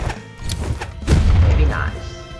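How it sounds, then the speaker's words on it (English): A bomb explodes in the Brawlhalla fighting video game, a loud booming thud with low rumble lasting about half a second, amid excited voices talking over the game. "So I guess that we grab the bombs and throw them at their..."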